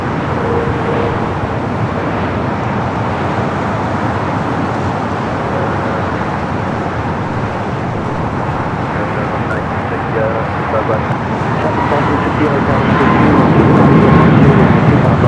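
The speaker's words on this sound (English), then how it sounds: "This flight coming in from Tokyo, Haneda, flight 106, a 12-year-old 787-8 Dreamliner" A 12-year-old Boeing 787-8 Dreamliner arriving at LAX from Tokyo Haneda gives a steady, broad jet roar over airport background noise, building slightly louder toward the end.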